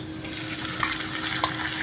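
Bagoong alamang shrimp paste sizzling in a pan as it is stirred, a quiet steady fry with a couple of small scraping clicks, no voices.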